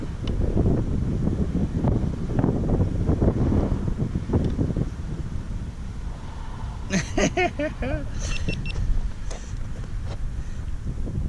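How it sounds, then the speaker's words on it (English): Strong wind buffets the microphone in heavy, rumbling gusts that ease off midway, and a few brief electronic chirps sound near the end. "It's so windy out here."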